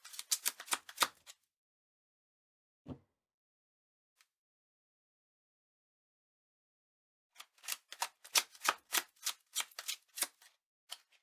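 Playing cards being shuffled and cut during a Metaphys deck test hand, heard as two bursts of quick, crisp riffling and flicking with a soft single tap between them, close and clear with no talking.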